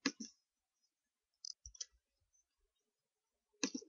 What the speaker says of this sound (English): I'm entering the user ID and password for John.